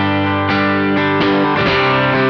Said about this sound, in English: Now we'll check out what happens when we turn up the gain.